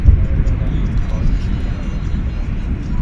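A heavy jet airliner at DFW Airport roars as one loud, steady low rumble that holds through the whole moment without letting up.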